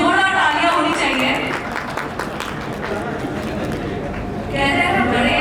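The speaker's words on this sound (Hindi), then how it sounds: "अल्पेश जी कोटड़िया जी के लिए जोरदार तालियां होनी चाहिए" Audience applause for an honoree at a Triyom Realty brand event in India, a steady clapping crowd with chatter mixed in, loud throughout and swelling again near the end.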